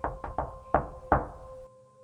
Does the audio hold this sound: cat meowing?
no